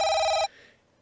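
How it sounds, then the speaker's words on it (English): A smartphone ringtone in the video game Cold Hearts rings loud and close as a bright electronic tone for about half a second, then cuts off abruptly into near silence. "My phone's ringtone is so loud."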